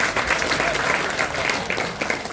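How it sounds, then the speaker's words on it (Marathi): An audience at a devotional satsang gathering in Pandharpur claps steadily, a dense continuous round of applause from a crowd of listeners. "वाजवा की टाळ्या."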